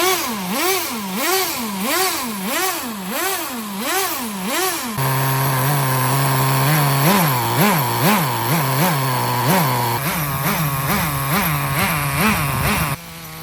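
Toyota GT-One nitro RC car engine with twin exhausts, a shrill, close buzz revved in quick rhythmic blips, then a higher idle broken by more rapid throttle stabs.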